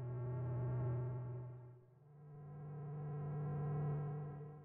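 Absynth 5 software synthesizer patch after mutation, a quiet sustained buzzy drone with rich harmonics that swells, dips to near silence briefly, then swells again at a slightly different pitch, no talk.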